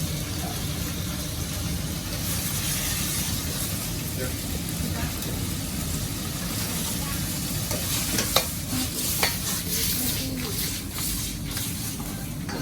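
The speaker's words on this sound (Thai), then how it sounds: "ผัดให้ผัดมันสุกแป๊บนึง" Sweet and sour pork stir-frying in a restaurant wok before the crispy pork is added, with a loud, continuous sizzle and hiss under steady stirring, a couple of sharp utensil knocks, and voices talking over it.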